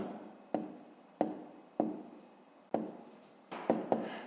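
Pen or marker strokes writing fractions by hand for a fifth-grade maths exercise, eight distinct sharp taps and scratches spaced unevenly, close and fairly clear, with no talking.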